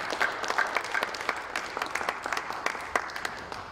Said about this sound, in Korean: 다시 한번 박수해 주시면 감사하겠습니다